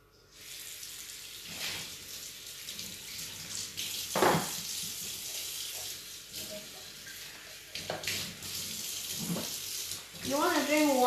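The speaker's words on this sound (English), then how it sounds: "You see this cat, she likes to drink water from the tap." Water runs from a tap while a cat drinks from it, a soft steady stream with occasional bumps and clatters, and a person talks quietly near the end.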